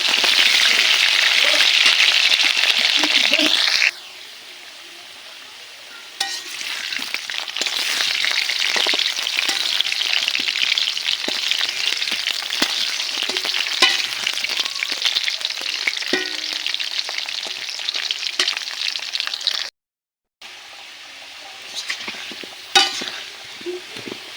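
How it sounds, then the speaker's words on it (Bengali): Potatoes fry in oil and are stirred until browned, making a loud, continuous close sizzle with scraping stirs throughout and one brief break near the end. "আলুগুলো এভাবে নেড়ে চেড়ে লাল লাল করে"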